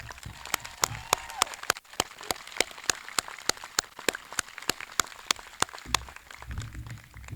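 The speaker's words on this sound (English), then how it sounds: "That deserves a big, big round of applause." Graduation audience at a technical school ceremony applauding, scattered individual claps standing out as sharp distinct hits over a low, steady murmur of clapping, fairly quiet and distant throughout.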